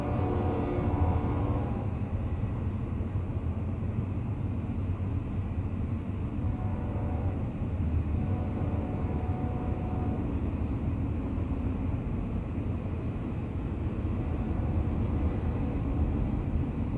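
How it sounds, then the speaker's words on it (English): A train recording played back, heard as a steady, loud low rumble of rail motion that holds fairly even throughout without other sounds or voices. "playing a tape of the sound of a train, as though the sound is getting faint while the train maintains motion"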